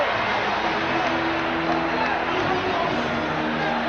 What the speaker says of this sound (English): the crowd reacting as it is announced differently after it had been announced on Mourning